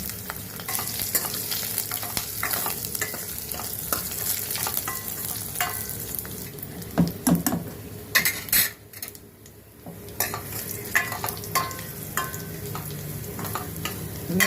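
Dried red chillies, cumin, curry leaves and asafoetida crackle and sizzle in hot oil, with a spoon clinking and scraping against the pan as it is stirred, close up and continuous.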